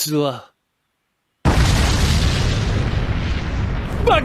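A loud, sustained explosion rumble in a horror video game bursts in after a moment of silence and fills the rest of the clip, with a brief voice fragment at the start and a short one at the end.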